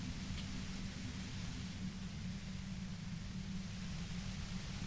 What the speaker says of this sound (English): you can do it through the white noise